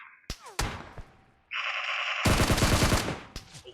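Gunfire in the mobile battle-royale game PUBG Mobile, with bullets punching through a car: two sharp single shots early on, then a dense, loud automatic burst lasting about a second over a steady background tone.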